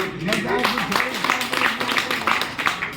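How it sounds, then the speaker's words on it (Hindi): An audience at a district council gathering bursts into applause, a busy patter of clapping mixed with a voice speaking over it the whole time. "एक बार जोरदार तालियां बजा के"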